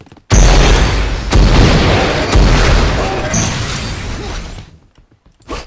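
A bot fires a picked-up gun in Unreal Tournament 4, with heavy booming shots, three loud blasts roughly a second apart, each trailing into a rumbling decay, then fading out.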